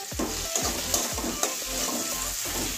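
Flat beans frying in oil with Maggi masala, stirred steadily in a pan: a continuous loud sizzle broken by rhythmic scraping strokes about every half second, close up and with no voices.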